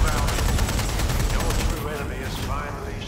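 Rapid bursts of automatic gunfire in the video game Watch Dogs: Legion, loud and continuous, thinning out toward the end as a whooshing, whirring sound takes over.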